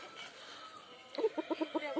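A rooster raised for a Sankranti cockfight gives a series of short, rhythmic clucks close by, about six quick pulses in the second half, after a quiet stretch with faint background sound.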